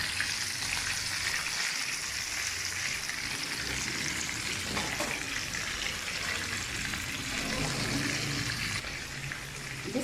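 Chicken legs fry in hot oil with a steady, close crackle and sizzle that runs unbroken for the whole stretch, with a few soft stirring clatters.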